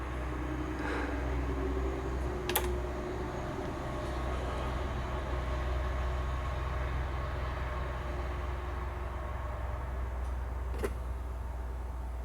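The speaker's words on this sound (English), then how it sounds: "Hear those relays click." A relay in a modified Boom!Box fan unit clicks sharply twice, a few seconds apart, over a steady, quiet blower hum.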